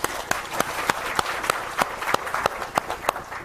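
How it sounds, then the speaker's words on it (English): A conference session audience at a blogging event gives a quick round of applause, a moderate wash of clapping with distinct, regularly spaced louder claps from a nearby person cutting through. "So I would like very quickly to do a quick round of applause to Yvonne DeVita and the team."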